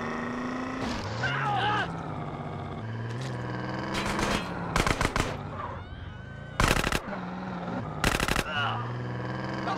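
In GTA San Andreas, micro SMG gunfire cracks out in several short, loud automatic bursts amid game car engine hum and street ambience, with a voice talking over parts of it.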